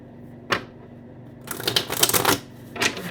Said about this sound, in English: Okay, I feel like one more shuffle.